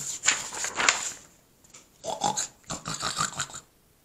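A pig snorts and grunts in several short, rough bursts separated by brief pauses, fairly close and loud.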